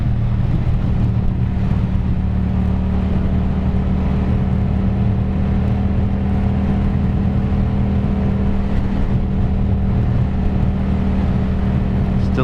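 A Yamaha FZ-07 motorcycle being ridden, a constant low engine drone mixed with steady wind rush, close and even for the whole stretch, with no speech.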